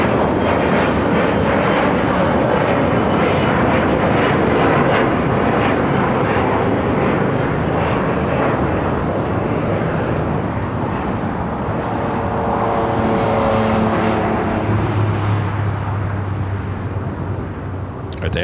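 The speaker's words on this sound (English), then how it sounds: "the Emirates A380 Super heading into the gates on the southwest side" An Emirates Airbus A380 taxis toward the gates at LAX, its engines roaring loud and steady throughout, with a rising whine and low rumble shifting near the end.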